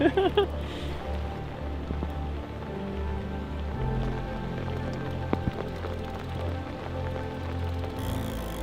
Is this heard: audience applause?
no